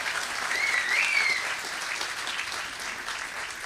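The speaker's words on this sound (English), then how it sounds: "let's give a big round of applause to the Chief" An audience applauds a city's Chief at a State of the City address, steady clapping that swells slightly and then holds at an even level throughout.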